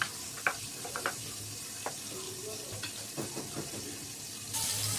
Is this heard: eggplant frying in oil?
yes